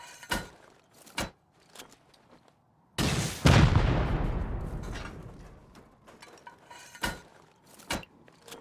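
Rocket explosions boom during an offline base raid in the survival game Rust, with one long roaring blast mid-way and several sharp, separate impacts before and after it, loud and close.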